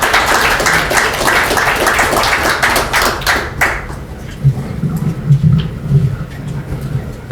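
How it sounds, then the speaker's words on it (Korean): An audience at a seminar on overcoming the low birth rate crisis claps loudly for a few seconds before the applause breaks off, followed by low thumps and faint movement noise. "큰 박수 부탁드립니다."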